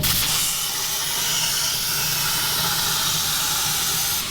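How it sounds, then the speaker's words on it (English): A plasma table cutting steel parts, including L-shaped pieces, for an off-road bread van build, giving a steady loud hiss from start to finish, broad and unbroken, with no talk. "I'm cutting on the plasma table."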